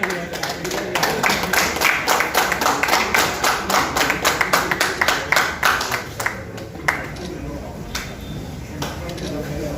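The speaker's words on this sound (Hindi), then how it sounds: "वेरी वेरी इनके लिए जोरदार ताली।" A meeting audience at a hotel in Raigarh claps loudly together for about six seconds, a dense burst of many hands that then thins to scattered claps under a hum of room chatter.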